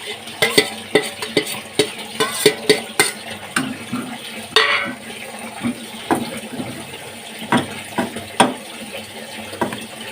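Powdered grated coconut is stirred in a hot pan, a series of irregular scraping and clinking strokes of a spoon against metal, close and moderately loud with short pauses.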